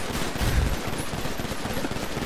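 Ray gun fire in a video game comes through as a continuous, loud, noisy barrage of overlapping shots that fills the whole moment, with no talk.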